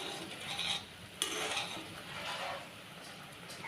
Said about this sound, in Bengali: একটু আমি নাড়াচাড়া করে দিচ্ছি।